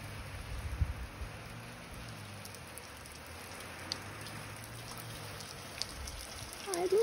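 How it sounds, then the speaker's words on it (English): Steady spray of water from a garden hose falling like rain, a constant hiss with scattered droplet patters throughout, fairly close. "My son is on the side holding a hose and he's going to make it rain for us."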